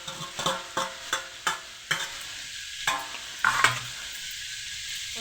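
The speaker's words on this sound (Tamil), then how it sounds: "இப்போ இன்னும் கொஞ்சம் நேரம் வதக்கும்." Tomato mint chutney, Kumbakonam style, sautéing in a pan: a steady sizzle runs throughout while a spatula scrapes and stirs in sharp, regular strokes, close and fairly loud, with no talking.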